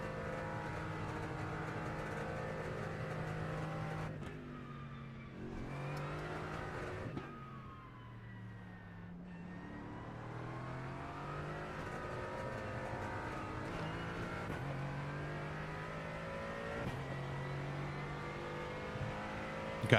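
Mercedes AMG GT4 race car engine in the iRacing sim at Daytona, a loud continuous engine drone that rises and falls in pitch through gear changes and revs, with no talk.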